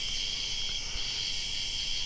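A steady, dense chorus of insects such as crickets buzzes without pause on a pitch-dark night outdoors beside the water while night fishing, continuous and fairly loud, with no talk over it.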